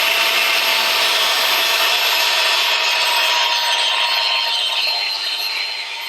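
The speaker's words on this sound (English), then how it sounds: "use some sandpaper to smooth it out" Sandpaper rubbing by hand across a bass boat hull, a steady, loud, continuous abrasive scratching that holds through the whole stretch and eases off slightly at the end, with no talking.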